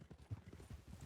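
Horse hooves clip-clop in the video game Red Dead Redemption, a quick, soft, even rhythm of low thuds at a steady trotting pace, faint and close, with no other sound over it.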